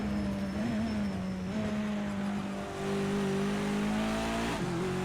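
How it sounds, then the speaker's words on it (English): A BMW 320 TC E90 race car on the Bathurst circuit in Project CARS 2, its engine a loud steady drone that drops in pitch as it brakes and downshifts, with a brief dip partway through. "Alright, we're gonna brake now."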